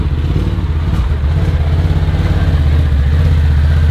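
Quad bike engine driving nearby, a loud, steady low rumble with a rising mid-range drone as it moves, close and continuous with no voices.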